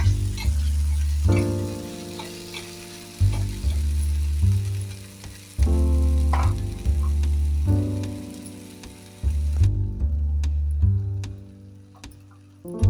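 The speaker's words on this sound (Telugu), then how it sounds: "మనం మళ్ళీ నూనెలో తాలింపు పెట్టాము" Tempering spices sizzle and crackle in hot oil beneath a loud low hum that cuts in and out in repeated bursts.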